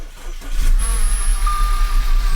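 An Audi B8 engine, repaired after an accident, idles steadily with a low, continuous rumble and a faint high whine, close and unbroken for the whole stretch.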